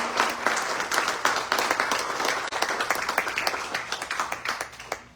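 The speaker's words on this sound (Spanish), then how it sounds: "Le brindamos aplausos al Señor." A church congregation claps for the Lord during a Sunday service, dense and loud, a sustained wash of many hands that tapers slightly toward the end.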